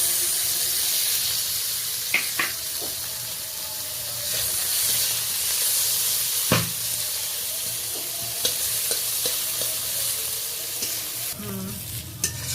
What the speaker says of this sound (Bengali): এবার কড়াইতে কিছুটা পরিমাণ তেল রয়েছে, দেখুন এই তেলে আমি কেটে রাখা পেঁয়াজটা একটু লালচে করে ভেজে নেব